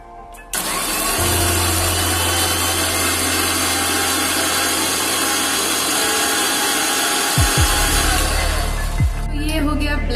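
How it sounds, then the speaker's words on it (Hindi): A blender whirs steadily as it purees watermelon juice with a pinch of black salt, a loud continuous motor drone starting abruptly and running for about nine seconds before cutting off, with a few clunks near the end. "फिर इसको अच्छे से ब्लेंड करना है"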